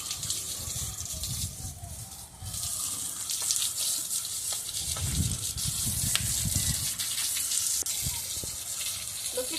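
Water splashing and gushing continuously while cows are washed at home, a steady broadband pour that runs through the whole clip with heavier splashes in the middle, close by and fairly loud.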